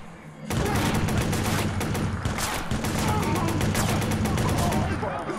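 Giant gun firing in Watch Dogs, a sustained, loud rapid-fire barrage starting abruptly and hammering continuously with dense repeated shots, briefly dipping midway.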